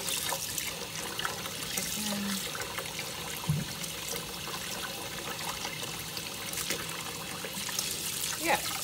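Hot tap water runs steadily into a sink while raw chicken pieces are rinsed one by one, a continuous splashing stream with a few small knocks.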